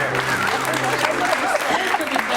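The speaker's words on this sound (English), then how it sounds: "Give them a round of applause." An improv comedy audience gives a sustained round of applause, steady dense clapping throughout with a voice briefly audible underneath.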